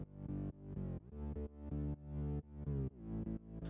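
A narrow, centered synth bass with its highs and lows trimmed pumps in a steady sidechain rhythm, warm and powerful sustained notes repeating alone without any voices.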